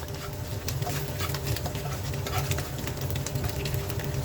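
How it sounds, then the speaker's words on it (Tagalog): Sayote (chayote) being stirred and tossed in a frying pan, with a continuous busy patter of scraping and sizzling, steady and close throughout, with no one talking. "kailangan ibabati lang natin yan sa ating kawali"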